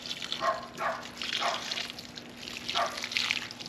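Water poured from a pitcher onto a potted pepper plant, giving a few soft splashing, trickling bursts at close range with no talking.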